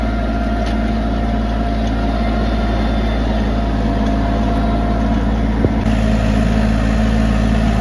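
A Japanese tractor's engine drones loudly and continuously at close range while tilling stony soil at minimum speed, a low rumbling hum with a brief clunk partway through.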